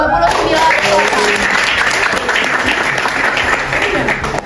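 A school hall audience breaks into applause right after new student council leaders are announced, loud and sustained clapping from a crowd throughout, with a voice talking over it.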